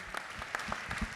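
Audience at an events-industry awards night claps in a brief burst, scattered individual hand claps rather than a full roar.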